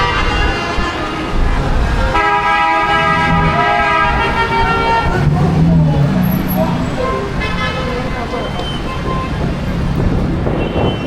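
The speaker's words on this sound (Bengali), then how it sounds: "এখানে যেরকম হরেন দিতেছে।" Car horns honk repeatedly in busy street traffic in Lebanon, with long sustained toots and shorter blasts over a steady roar of engines and road noise, loud and close.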